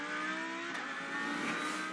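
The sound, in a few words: race car onboard replay braking, WEC 6 Hours of Fuji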